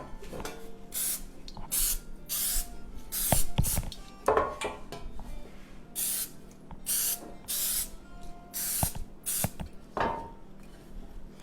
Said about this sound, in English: I'm just going to spray that a little bit, especially on the ends, and just a little bit on the sides